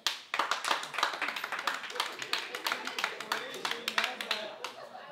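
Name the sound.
audience clapping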